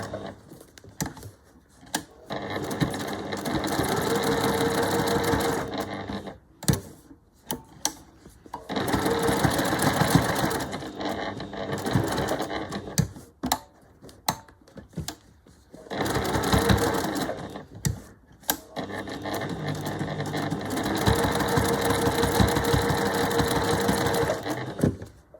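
A semi-industrial straight-stitch sewing machine stitches bunting flags in several steady runs, each a few seconds long, with brief pauses between them as the fabric is turned.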